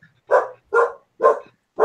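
A dog barks four times in an evenly spaced series, each bark loud and close with short silent gaps between.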